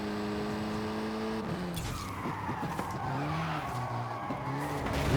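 A car with an oversized rear wing slides sideways in the racing game Forza Horizon 5, tires squealing loudly under a droning engine with sweeping pitch changes throughout.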